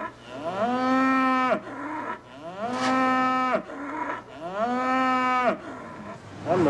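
Cattle at the NC State Fair livestock barns give three long, loud, close moos one after another, each with a short gap, and no talking.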